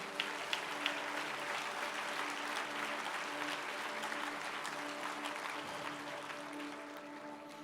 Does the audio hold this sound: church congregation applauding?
yes